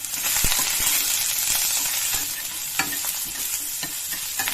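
Masala with mint and coriander leaves fries in a pan with a steady bright sizzle, punctuated by scraping stirs and occasional sharp clinks of a spoon against the vessel, close and continuous.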